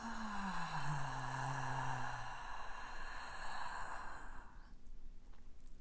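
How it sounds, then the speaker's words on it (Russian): A long, slow exhale through a slightly open mouth, a childbirth breathing technique, with a voiced tone that slides downward in pitch, close and breathy, fading into quiet after a few seconds. "Приоткрываем рот на выдохе, расслабляем здесь все и делаем такое"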